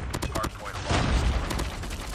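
Short bursts of M16 rifle fire in a first-person shooter video game, several quick grouped shots over busy game noise while someone talks.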